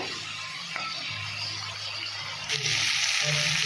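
Ground spice paste hitting hot oil in a pan, a steady close sizzle that swells louder and brighter toward the end, with no talking.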